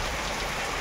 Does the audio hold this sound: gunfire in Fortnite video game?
no